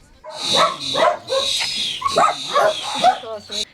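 Month-old puppies at an animal shelter yap and whimper in quick high bursts close by, several overlapping barks throughout with a voice speaking among them.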